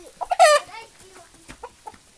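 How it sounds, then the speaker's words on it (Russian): Farmyard chickens clucking close by, a sharp squawk followed by a few softer, scattered clucks over a couple of seconds. "Наши куры"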